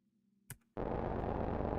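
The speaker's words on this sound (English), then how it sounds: "That's the worst riser I've heard." A harsh, distorted synth riser bursts in after a faint hum and brief blip, roaring loud and dense with buzzing texture as it sustains.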